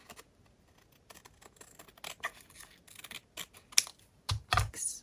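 Scissors trim a piece of cellophane for a craft journal pocket, giving a few quiet crinkly snips and rustles that grow a little louder toward the end, close by with no talk.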